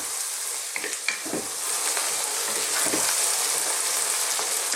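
Carrots, celery and other vegetables for an Indian vegetable curry frying in a pan on high heat, a steady loud sizzle with occasional stirring clatter, no voices.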